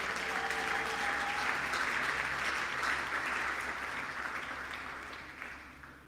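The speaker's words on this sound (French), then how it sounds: "Est-ce qu'on peut acclamer pour le roi des rois?" A church congregation applauds, steady loud clapping that fills the room and slowly fades toward the end.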